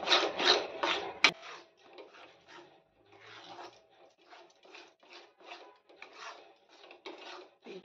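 Besan (gram flour) being stirred and roasted in a pan, a soft repeated scraping and rasping of the spoon against the pan in steady strokes, close and fairly quiet, with one sharp clink early on.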